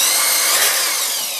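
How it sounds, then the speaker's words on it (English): A power drill boring a hole through a wooden board for a raised vegetable garden bed, a steady loud high whine held throughout at close range with no voices. "we're going to drill a hole in this one."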